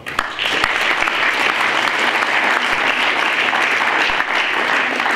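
Loud, sustained applause from a CDU district party conference audience, a thick continuous clatter of many hands clapping close by from start to finish.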